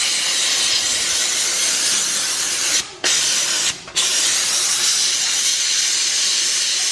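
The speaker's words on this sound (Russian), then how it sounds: "Когда пар идет, видишь, пар, он от него же вода." Loud, continuous hiss of steam from a nearby steamer, briefly cut off twice before resuming at full force.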